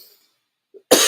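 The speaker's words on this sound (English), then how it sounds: "so I'm gonna be coughing." After near silence and a faint catch of breath, a single sharp cough bursts out loud and close at the very end, from someone getting over a cold.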